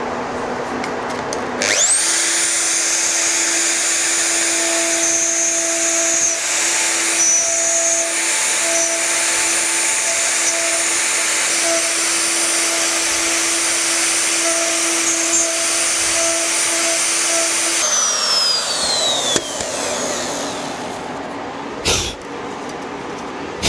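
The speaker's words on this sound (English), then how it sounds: "Now I'm actually just going to work back and forth with the router bit just to clean out all that material in there that I don't need." A router with a bit clears wood for an inlay. It is a loud, steady high-pitched whine that holds for about sixteen seconds and then winds down, with a brief knock near the end.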